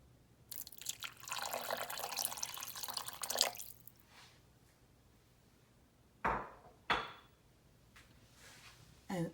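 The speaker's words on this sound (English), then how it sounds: "I'm going to add just a little bit more water, just a little bit." Water poured from a container into a crock pot of fifteen-bean soup, a steady splashing pour for a few seconds, then quieter with a couple of brief knocks and clinks afterward, close by.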